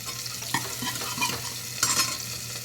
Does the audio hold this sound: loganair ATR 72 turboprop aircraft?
no